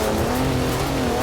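Steady, loud car engine drone from a four-wheel-drive vehicle in Forza Horizon 4, with a sustained low hum holding through the whole moment as it struggles to reverse.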